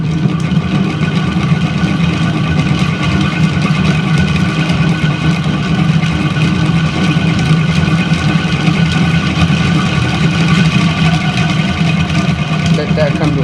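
A spin art machine whirls a paint pour for a bloom design, giving off a steady, unbroken motor hum and whir that holds at an even level from start to finish.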